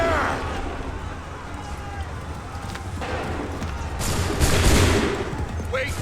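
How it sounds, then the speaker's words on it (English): A musket volley rings out on a battlefield in the video game Assassin's Creed III. A loud crackling burst of fire rises from the game's continuous battle din, with voices in the mix. "Wait for the signal. Open fire."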